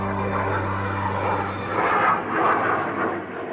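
An airplane at Istanbul Airport roars steadily, a broad engine rush that swells and eases slightly as it passes, with no voices over it.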